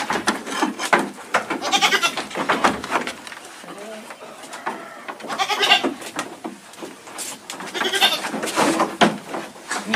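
Goats bleat repeatedly on a farm, loud and close, their calls overlapping with people talking throughout.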